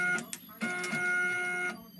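A Zebra ZE500 printer working with a LAB400 applicator, labelling SD cards with self-adhesive labels, gives a brief steady mechanical whir with a few soft clicks, close and fairly quiet.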